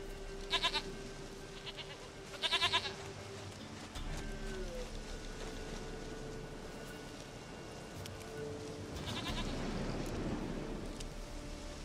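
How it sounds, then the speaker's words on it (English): A goat bleats in a video game scene, two short quavering calls close together early on, then another later, over a constant ambient bed of wind or surf. "sweetest goat"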